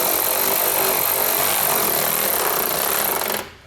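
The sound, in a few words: 13mm socket tightening nerf bar hardware on a Nissan Frontier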